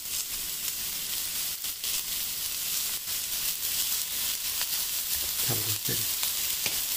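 Butter melts and fries with mushrooms over low heat in a pan, a steady close sizzle with occasional stirring knocks, and a brief voice speaks near the end.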